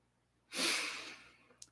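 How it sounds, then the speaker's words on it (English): A single deep, slow breath drawn in during a guided meditation, a long airy rush that swells and then fades gradually, with a faint short exhale catch at the end and no talking. "begin to breathe deeply"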